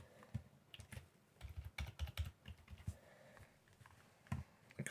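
A password being typed on a computer keyboard while setting up a Windows Server 2019 administrator account, quiet irregular key clicks in a steady run, close and faint with no voices.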